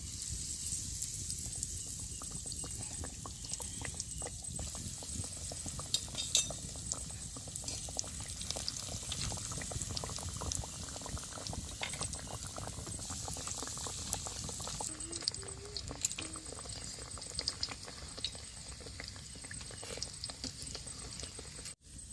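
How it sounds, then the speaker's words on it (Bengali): White cooking oil poured into a hot wok sizzles and bubbles steadily in a kitchen before fish cutlets are fried, a close, continuous crackling hiss that stays even throughout with no talk. "কড়াটা গরম হয়ে গেছে, আমি কড়াতে সাদা তেল দিয়ে দিচ্ছি।"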